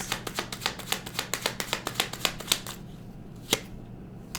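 A deck of tarot cards shuffled close by, a quick run of crisp, evenly spaced riffling snaps that stops partway, followed by one last sharp card tap in a quiet room.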